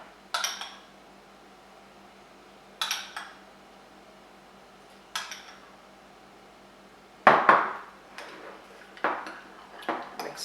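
Spoon clinking against a bowl while mayonnaise is mixed with garlic, parsley, dill and onion, a handful of sharp separate knocks spaced a couple of seconds apart, then a quicker cluster near the end, against a quiet room.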